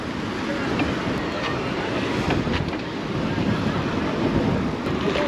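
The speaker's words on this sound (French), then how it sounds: "c'est blindé avec les vagues et le vent qu'il y a" Sea waves and strong wind rush continuously near a Marseille seafront in summer, a dense roar with heavy wind buffeting the microphone throughout.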